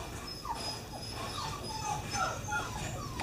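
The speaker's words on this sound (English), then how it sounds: "Here are Autumn and Zeus's puppies" Small puppies whimper and yip in a series of thin, high cries, fairly close, with soft background noise and a sharper yelp at the end.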